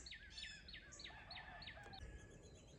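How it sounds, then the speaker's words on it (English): Faint, repeated high chirping calls from woodpecker chicks in a nest, a quick series of short rising peeps over a quiet outdoor background, distant and soft. "That's where the woodpeckers got their babies."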